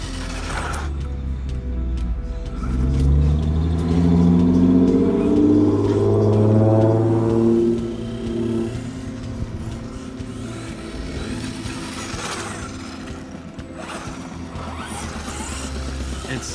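A WLToys 104001 RC buggy with its stock motor drives around, its electric motor whining and rising in pitch as it speeds up, then falling back to a softer whir mixed with faint rolling and mechanical noise.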